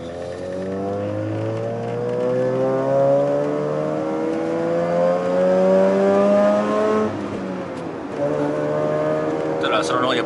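Mazda RX rotary engine revving at a track day, its buzzing note climbing in pitch over several seconds, dropping briefly, then rising again, close and loud with steady harmonics.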